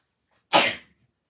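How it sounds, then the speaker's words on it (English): A single loud, close sneeze bursts out after a moment of silence, a sharp explosive blast that quickly trails off, with the room quiet again afterward. "I have to sneeze."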